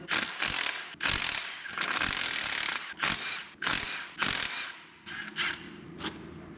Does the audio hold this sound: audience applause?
no